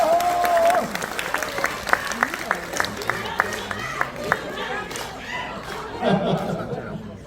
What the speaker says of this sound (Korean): 항상 여러분과 함께 뛰고 있는 우리들의 영원한 동지 최양덕 동지에게 큰 박수 한번 보내주셨으면 좋겠습니다.